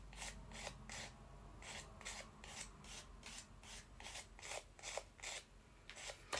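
A metal clay piece, brittle at this stage, has its edge filed smooth, giving a steady run of short, close rasping strokes in quick rhythm, fairly quiet, with no talk.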